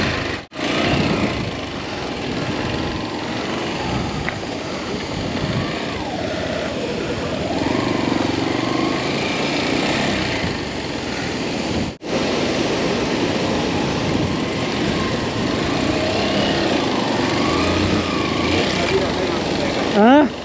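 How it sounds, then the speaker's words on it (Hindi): A motorcycle engine runs with a continuous droning roar while riding a rough, broken mountain road, joined by wind buffeting and a rider talking over it. "अब अर्श भाई की बाइक भी चला के देखते हैं कैसा एक्सपीरियंस इसका भाई"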